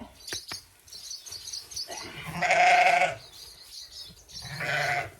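Sheep bleat on a farm, with two long, loud bleats close by, while small birds chirp in the background between them.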